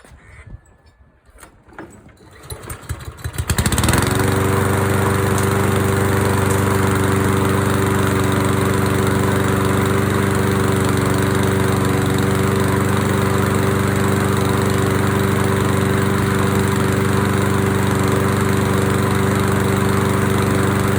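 A freshly tuned-up lawn mower engine pulls into life after a few seconds of rattling and then drones loudly and steadily up close, a constant buzzing roar that holds for the rest of the clip.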